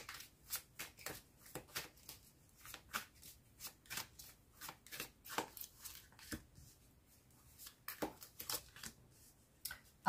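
Tarot cards are shuffled and drawn in quiet close-up, with a sequence of soft, irregular flicks and slaps of cards being handled and laid down.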